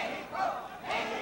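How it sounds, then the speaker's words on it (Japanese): Mexican supporters roar and chant from just behind ringside at a boxing match in Sendai, with Miguel Canto fighting Shoji Oguma: a brief, swelling crowd cheer in two loud surges, with no voice heard alone. "メヒコの声援がまた始まりました"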